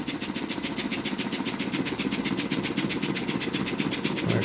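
A small DC can motor in an S gauge model locomotive on a Flyer-based Mohawk chassis runs with a steady, rapid buzzing whir and a faint pulsing rhythm, held at a fairly even level.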